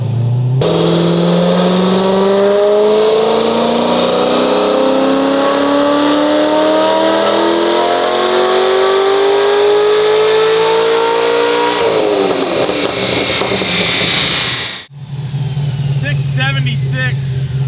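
A car engine with catalytic converters and an X-pipe revs hard on a dyno during a cold morning pull, roaring loudly and rising steadily in pitch for about eleven seconds before it drops off and idles.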